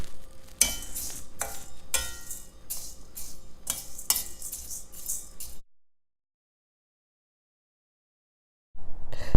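Lentils being dry-roasted on low heat in a pan, stirred with a utensil that gives a run of sharp scraping and clinking strokes, then about three seconds of silence before the stirring resumes.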